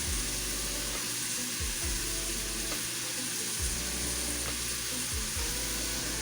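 Broccoli seasoned with seasoned salt sizzles loudly in a hot pan, a constant close frying hiss broken by a few low thumps and clatters as the pieces are stirred.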